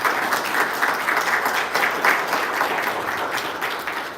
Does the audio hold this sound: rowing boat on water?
no